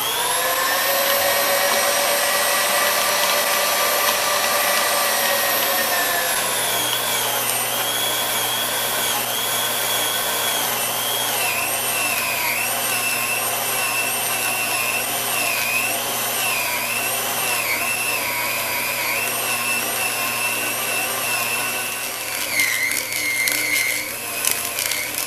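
Grinder chewing silicone mold rubber fed slowly through a smaller plate, a loud, steady motor whine with pitch dipping and wavering under load and a rougher grinding burst near the end.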